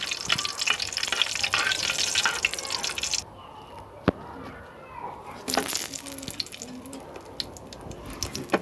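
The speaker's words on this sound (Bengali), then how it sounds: "এখানে মরিচ সরিষার তেলে ভেজে নেব কিছু।" Chillies fry in mustard oil in a frying pan: a loud crackling sizzle drops away suddenly, then a single sharp knock is heard before the spitting and bubbling picks up again close by.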